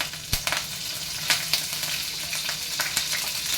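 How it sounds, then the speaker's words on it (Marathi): Mustard seeds and curry leaves sizzle and crackle in hot oil, a steady frying hiss broken by sharp popping bursts scattered throughout. "तेल तापलेलं आहे त्याच्यामध्ये मोहरी घालते कढीपत्ता घालते"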